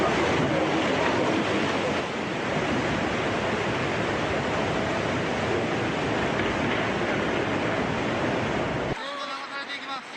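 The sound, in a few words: giant tsunami wave crashing into town, Miyako, Japan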